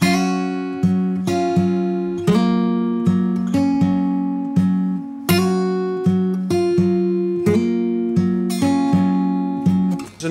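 An acoustic guitar plays the intro to a song, with clear plucked notes and hammer-ons on the fourth and third strings sounding in a gentle repeating picked pattern, close and alone without talk.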